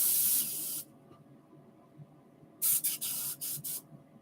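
While being cleaned, an airbrush gives a sustained spray hiss, falls quiet, then fires four or five short sharp bursts in quick succession, close and alone.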